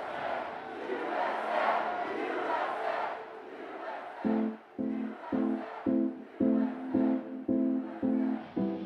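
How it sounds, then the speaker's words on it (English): A concert crowd after a song breaks into a loud rhythmic chant of "USA," rising out of general cheering into a steady repeated two-beat call from many voices. "After the song ended, the crowd broke out in the chant of USA."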